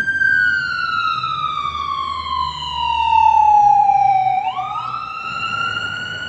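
A loud wailing ambulance siren in Israel sweeps slowly down in pitch, then jumps back up, close and dominant over a low rumble of traffic.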